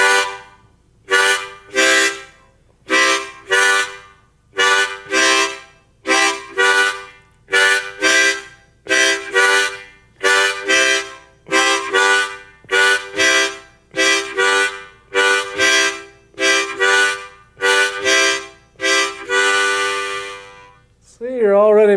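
A harmonica plays a rhythmic pattern of paired draws and blows on the same holes, short reedy chords in a steady repeating pulse, close and loud, ending with a brief lower sound.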